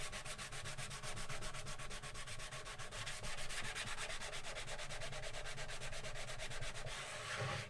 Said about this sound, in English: besides a little bit of sanding